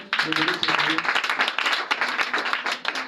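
Congregation at a church service applauding to acclaim the Lord, a dense continuous wash of clapping from many hands, with voices calling out underneath.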